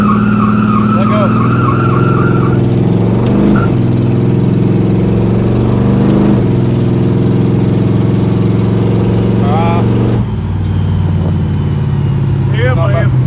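A supercharged 1955 Chevy roars loudly and steadily at high revs, its tires spinning in a sustained burnout, with tire squeals rising over the engine and voices audible beneath the din.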